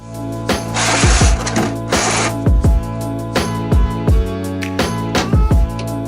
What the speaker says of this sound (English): start loosening the oil drain plug with a 19mm socket